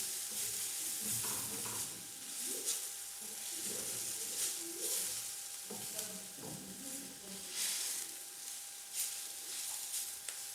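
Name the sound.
grated carrot frying and being stirred in a pan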